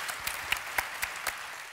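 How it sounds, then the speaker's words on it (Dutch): Sparse, scattered clapping from a small audience at a Dutch panel discussion, a handful of distinct claps at a steady pace, fairly faint. "Ook applaus."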